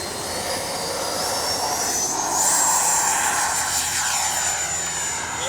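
Freewing 90mm F-22 V2 radio-controlled jet flying outdoors on a windy day, a steady, loud whining roar from its ducted fan that swells slightly as it passes, with no voices.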